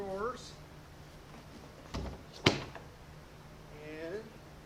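Homemade wooden drawer on a DIY truck bed camping platform slides shut with a quick scrape and a sharp knock, close by, with brief talk just before and after.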